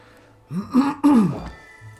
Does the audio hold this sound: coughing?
yes